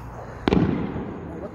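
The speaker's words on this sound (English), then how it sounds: "Someone's throwing firecrackers." Firecrackers are thrown outside at night, and a single sharp crack is followed by a brief crackling burst and a fading rumble, heard from some distance.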